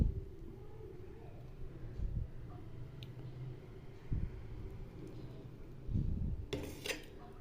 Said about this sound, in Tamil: இது மாதிரி குழிக்கரண்டி வச்சு தான் கிளறணும்